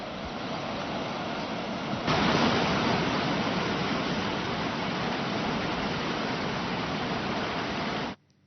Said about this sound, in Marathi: बारामती तालुक्यामधल्या काटेवाडी इथे सुद्धा पाऊस कोसळताना दिसतो